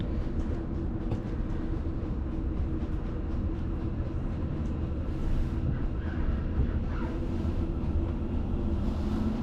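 Interior of a Class 380 electric multiple unit, unit 380-020, running toward Glasgow: a steady low rumble of wheels and motors with faint rattles, continuous and even throughout, with no voices.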